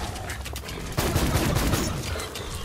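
Rapid bursts of gunfire from the Legendary Pearless SuperBall gun in the video game Borderlands 3, a dense crackling volley that suddenly swells louder and then trails off, close and punchy.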